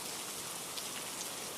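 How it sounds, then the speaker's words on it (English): Steady rain patters against window glass, a dense, even hiss of drops at moderate distance with no voices. "Rain tapped against the windows"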